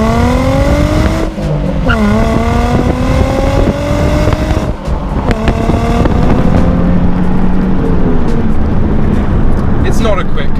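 A Nissan 350Z Roadster's engine and exhaust drone loudly and continuously while driving, the pitch rising and falling through gear changes.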